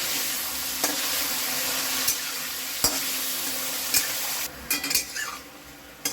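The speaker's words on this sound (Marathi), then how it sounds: "मी आता हे तेलामध्ये चांगलं फ्राय करून घेते बघा." Chicken for fried rice fries in oil under an even hiss, punctuated by a spatula scraping and clinking against the pan several times, with a quick flurry of clatter near the end.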